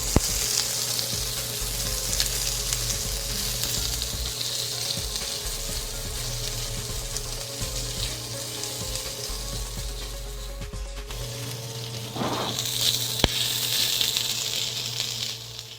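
Chopped fried dace and fermented black beans hit a hot wok for a Cantonese bitter gourd stir fry, giving a steady broadband sizzle with a low hum beneath and a brief scrape or clatter near the end.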